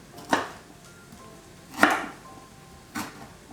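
Ginger being peeled and cut on a board produces three separate, crisp knife chops spaced about a second apart, close and fairly loud in a quiet room.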